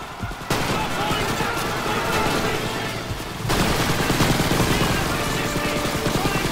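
Dense Call of Duty battlefield gunfire rattles in continuous bursts of machine-gun and rifle shots, loud and close, intensifying midway into a heavier fusillade with faint shouting mixed in.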